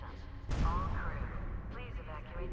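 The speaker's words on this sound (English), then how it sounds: "There's some explosions." An explosion in the Alien Breed video game: one sharp, heavy blast with a rumbling tail, followed by fainter debris and echoing noise.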